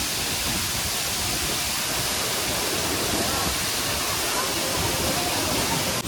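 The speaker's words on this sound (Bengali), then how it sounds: "ঝর্ণার যে আওয়াজ, কিচ্ছু কথা শোনা যাচ্ছে না, এত আওয়াজ, মানে সাউন্ড" Deojhar waterfall near Athagarh, Odisha, roars as a dense, loud, unbroken rush of falling water that fills the whole clip from close range, with no other sound breaking through.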